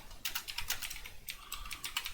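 Fast, irregular keystrokes on a computer keyboard in two bursts of steady clacking, close and clear, with a short pause between them and no talking.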